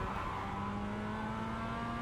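A Mazda MX5 engine drones steadily under acceleration out of a corner at Interlagos in the iRacing sim, a continuous buzzing note heard alone at moderate level.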